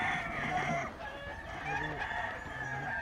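Several roosters at a large cockfighting ranch in California cluck and crow together, a dense, overlapping chorus of fowl calls that keeps going from start to end.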